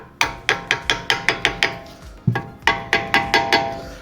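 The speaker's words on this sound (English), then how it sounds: "just give it a little tap on the edge of the brake pad" Repeated sharp metallic taps driving a brake pad into the front brake caliper of a 2017 Skoda Superb, about fifteen close, evenly spaced hammer strikes with one short pause partway through.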